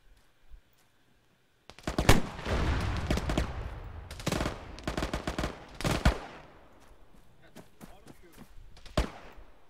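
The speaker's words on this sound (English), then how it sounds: "That is a lot of shooting." Gunfire during a military-style game, bursts of rapid shots and single cracks, fairly close and loud, with brief voice sounds between volleys.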